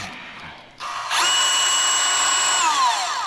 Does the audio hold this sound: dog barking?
no